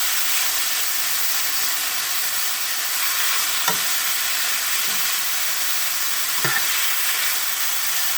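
Meat stewing and sizzling in a pan for Lao spring rolls, a loud even hissing crackle throughout with a couple of light knocks from a spoon or pan, close and without speech.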